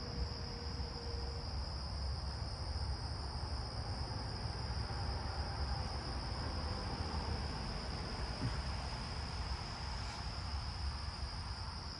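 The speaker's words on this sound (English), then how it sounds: "Carolina ground crickets back that way." Carolina ground crickets trill steadily in a neighbourhood backyard with ground cover, a continuous high buzzing chorus held at even level for the whole stretch, with no voices over it.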